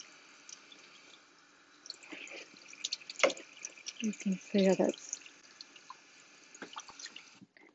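Running tap water rinses the ink layer off a printing plate, a faint trickle and splatter with a few louder splashes, while a person talks quietly over it.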